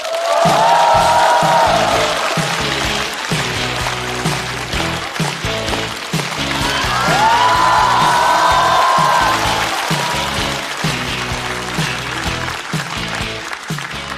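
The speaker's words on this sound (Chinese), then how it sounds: "掌声有请" Studio audience at a Chinese stand-up comedy show applauding as a comedian is introduced, a loud sustained wash of clapping with music playing underneath and whistle-like cheers rising over it.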